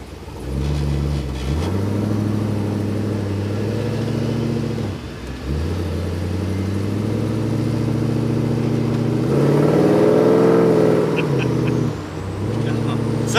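A 1957 Chevrolet Bel Air restomod engine revs and accelerates loudly and close, with a deep steady drone that surges, dips briefly, then builds again over about thirteen seconds.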